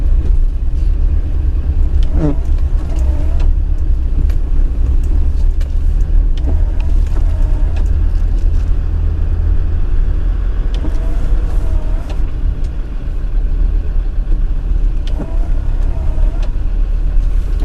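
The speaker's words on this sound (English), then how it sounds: "if you're comfortable just to allow the vehicle to creep down nice and gently" An off-road vehicle creeps slowly and gently downhill along a green lane in the Lake District, its engine a steady low rumble with faint rattles and bumps throughout, close and continuous.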